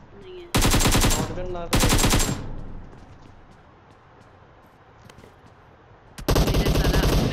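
Bursts of automatic AK rifle fire in the PUBG Mobile video game, two loud rapid bursts near the start and another at the end, with a player speaking briefly between them.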